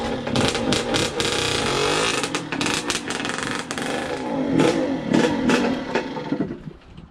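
A 1990 Yamaha YZ80 two-stroke dirt bike engine runs loud and rough nearby, its continuous buzzing roar rising and falling with uneven throttle blips.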